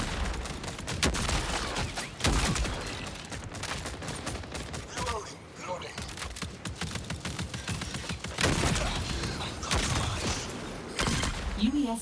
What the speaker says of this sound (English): Is that us shooting?